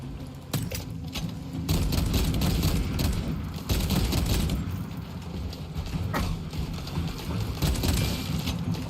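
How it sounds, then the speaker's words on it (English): Rapid bursts of gunfire in the video game Space Marine II, sharp cracks and stuttering volleys piling up loudly and nearly continuously after a short quiet opening. "What is shooting at me?"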